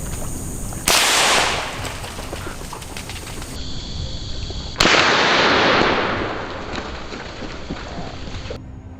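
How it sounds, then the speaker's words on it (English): Rifle shots fired at wild hogs on farmland, two loud sharp cracks a few seconds apart, each followed by a long rolling decay, with no talk. "Without hesitation, he fires, taking down one beast."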